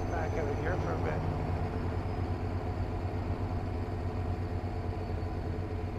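A big-displacement truck engine rumbles inside a W900A cab in the video game American Truck Simulator, a loud, steady, low droning idle heard close throughout.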